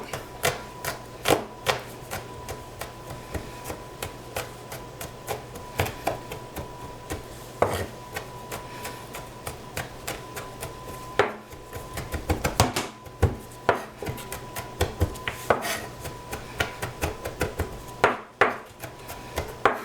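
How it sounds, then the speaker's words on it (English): A knife chops garlic cloves on a cutting board, producing a long series of sharp, irregular taps and knocks, some in quick bursts, close up over a faint steady hum, with no speech. "garlic, take it, smash it with your knife"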